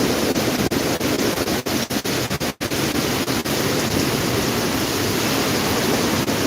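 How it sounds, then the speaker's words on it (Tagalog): Strong typhoon wind in Camarines Sur, Bicol, at signal number five roars steadily and loudly close by, a constant rushing wash broken by brief gust dips, with no voices. "Sobrang lakas guys ng hangin."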